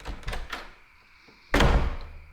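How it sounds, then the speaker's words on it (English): A door slams shut with one heavy thud that follows a few quieter knocks and rattles, close and loud, with no voices. "Then the door slammed shut behind me."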